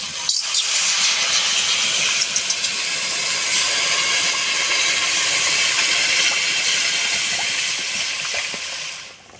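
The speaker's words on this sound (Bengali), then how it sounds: "ঝোলটা ফুটে গেছে" Curry gravy with cauliflower and potatoes boiling hard in a pan after water is added, a loud, steady, close bubbling hiss that continues without a break and cuts off at the end, with no talk.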